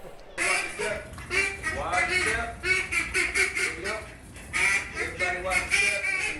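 Ducks in a hotel fountain at the Peabody Hotel in Memphis quack repeatedly in a lively, overlapping chorus, close and fairly loud, with a busy murmur of crowd noise underneath.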